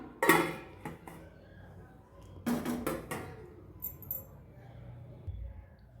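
Metal lid set onto a cooking pot of chicken curry, a couple of clattering clinks near the start and a louder cluster of metallic knocks midway, with quieter kitchen rustling between.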